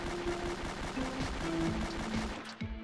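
A Beretta M9 pistol fires in a Roblox roleplay game, loosing a rapid string of close, crisp shots in quick succession for about two and a half seconds before stopping.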